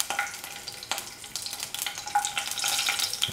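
Cashew nuts fry in ghee (clarified butter) in a pan for carrot halwa: close, crackling sizzle that grows busier toward the end, with a few stirring scrapes and no talking.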